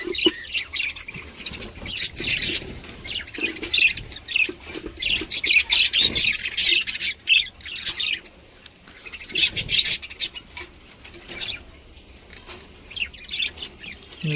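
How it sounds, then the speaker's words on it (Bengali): Pet budgies, including baby albino birds, squawk and chirp in bursts while flapping and scrabbling inside their cage, loud and close, with quieter pauses between flurries. "আর এই পাখিগুলো প্রচণ্ড ঝটপট করছে"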